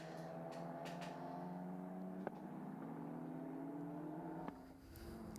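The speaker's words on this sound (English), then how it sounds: "So cars heading out on track, everyone all out in once." Racing cars of the Ultimate Formula Cup roll out onto the Magny-Cours circuit in cool October qualifying, engines droning steadily with rising pitch as they pass, a couple of sharp clicks or pops cutting through the steady mechanical hum.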